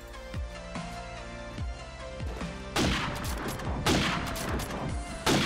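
Repeated wallbang gunfire in Call of Duty 4 ProMod on the Citystreets map, rounds punching through walls: sharp shots at first spaced about half a second apart, then a dense, loud burst of rapid fire, with no talking.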